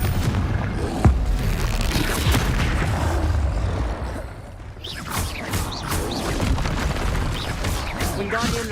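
Fiery Confringo spell blasts in the Hogwarts Legacy video game, a sharp boom standing out near the start over a dense, continuous wash of game noise and rumbling effects, with talk running through.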